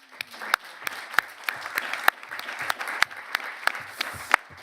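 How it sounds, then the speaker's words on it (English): Audience applause for panelists at a foundation forum, a moderate room of clapping with several sharp, distinct claps rising above a steady patter, heard fairly close and continuing evenly. "I'm going to do a big round of applause for all of our panelists."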